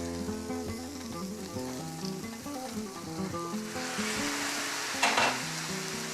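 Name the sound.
chicken and chorizo sizzling in paella pan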